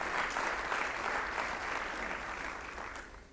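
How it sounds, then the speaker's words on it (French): Audience applause for sponsors at an opening ceremony, a steady, dense burst of many hands clapping that holds throughout and tapers slightly at the end. "Il faut qu'on les applaudisse aussi"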